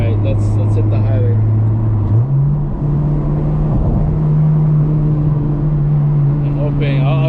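A 9th gen Honda Civic Si fitted with an aftermarket downpipe and exhaust pulls onto a highway, its engine droning steadily and rising in pitch as it accelerates, loud from inside the car, with a person talking over it.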